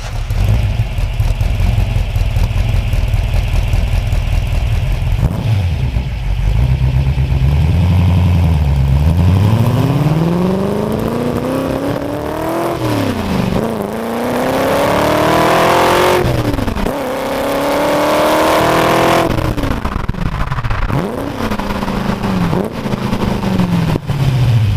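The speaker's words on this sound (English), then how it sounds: "It's got 4 two-barrel downdraft Weber carburetors on it, so you get this real kind of classic, vintage, clack sound when you get on the throttle." A 1966 Ford GT40 V8 breathing through four two-barrel downdraft Weber carburetors revs hard, its loud engine note climbing and falling through several throttle blips and sweeping pulls with a crisp, vintage clack, close and alone without talk.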